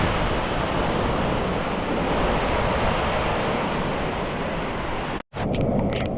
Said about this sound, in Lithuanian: Nelijo, dabar smarkėja lietus.